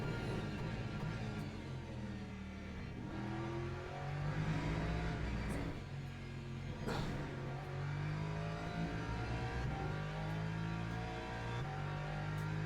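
An LMGT3 race car lapping Imola in the Le Mans Ultimate sim racing game, its engine droning loud and continuous with rising and falling pitch as it brakes hard and shifts down for a corner, no talking.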